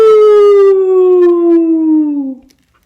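A single long wolf howl, loud and close, slowly sliding downward in pitch with rich overtones before cutting off near the end.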